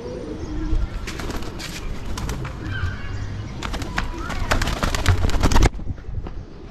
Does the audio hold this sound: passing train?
no